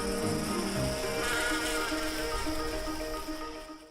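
A dense, continuous buzzing of bees, close and steady, holding level before fading slightly at the end.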